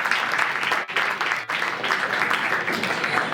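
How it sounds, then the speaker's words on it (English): Applause from a live audience after a poetry reading at a Bengaluru event, a full, loud burst of clapping, close and continuous with two brief dips. "Can we have a huge round of applause for Rashmi?"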